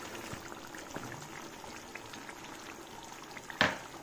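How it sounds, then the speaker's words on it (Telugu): Chicken simmers undisturbed in a pan over a medium flame, with quiet, continuous bubbling, scattered soft pops and one sharper crackle near the end. "ఒక 2 మినిట్స్ మనం ఈ చికెన్ని అట్లానే ఉడకనిద్దాం మీడియం ఫ్లేమ్లో కదపకుండా."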